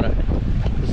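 Strong sea wind roars and buffets the microphone on a waterfront in Marmaris, Turkey, a loud continuous rush with low rumble close by and no break.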